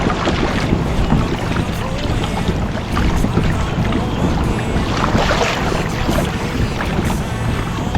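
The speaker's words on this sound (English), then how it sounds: "I hear the boats coming." Boats heard from a kayak on the rugged Oregon coast ocean, a continuous loud rumble of engines mixed with wind buffeting the microphone and water noise, steady throughout with no speech.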